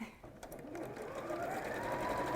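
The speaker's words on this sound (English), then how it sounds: "I've just sewn the same sides on the lining fabric just there" A sewing machine stitches lining fabric with a steady whirring motor drone that builds and holds, close and moderately quiet, with no talking.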